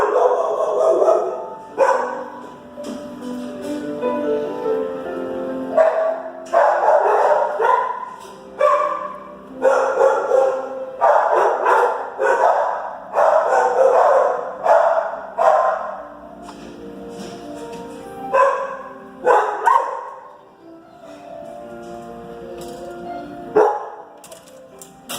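Shelter dogs bark in loud, close bursts that come and go over a long stretch, with yips and brief lulls between volleys.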